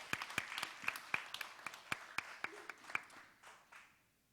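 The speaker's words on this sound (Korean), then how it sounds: "우리 하나님 다시 한번 감사의 박수 올리면 좋겠습니다" Sparse, sharp hand claps from a church congregation, a dozen or so distinct claps spread over a few seconds, fading near the end as the applause dies out.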